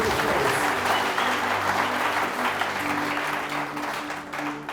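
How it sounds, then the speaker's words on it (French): A church congregation applauds together during a French-language sermon, a steady close wash of clapping that holds for the whole stretch and eases slightly toward the end, with a low organ or keyboard chord sustained underneath. "Est-ce que nous pouvons acclamer pour ça?"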